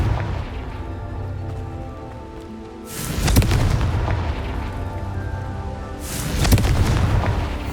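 Two loud, deep booming explosions from the Confringo spell in the game Hogwarts Legacy burst out a few seconds apart, each followed by a rumbling decay over a low ambient game score.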